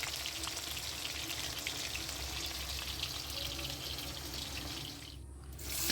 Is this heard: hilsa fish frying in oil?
yes